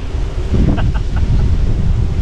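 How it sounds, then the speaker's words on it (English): Loud gusty wind roars against the microphone throughout at a dusty Australian campground, a constant low rumble with no voices. "And it is so friggin' windy"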